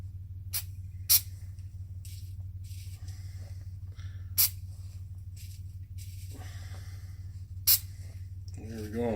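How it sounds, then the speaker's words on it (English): Three short, sharp blasts of Crown penetrant spray onto Ski-Doo MXZ clutch parts, each burst brief and close, spaced out over a steady low workshop hum. "I'm just going to give these a quick little shot with Crown penetrant. Just a little blast"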